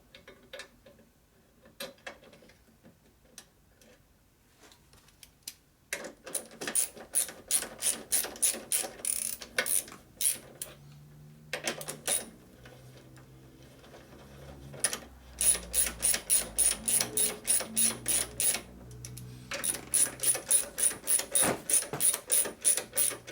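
A ratchet tightening bolts on a Harley Sportster 650cc single-cylinder land speed race engine, close and loud, working in quick clicking strokes for long runs with short pauses between them, alone with no talking.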